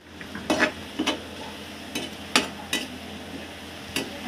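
Onions and ginger frying in oil for egg curry, stirred in a pan with a spoon: repeated sharp scraping strokes every half second or so over a constant low sizzle, close and clear.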